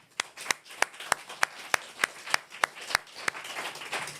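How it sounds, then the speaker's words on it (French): Scattered clapping at an awards moment honoring laureates on a business school campus: a dozen distinct, evenly spaced claps from a small group, then a softer ripple of clapping toward the end, fairly quiet overall. "à les applaudir par la même occasion."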